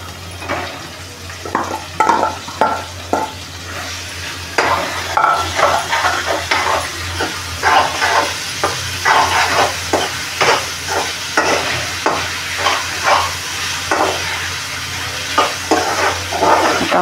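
Onion fries and is stirred in a pan while oyster masala is being cooked, a steady close sizzle broken by repeated scraping strokes of a spoon against the metal, loud and rhythmic throughout.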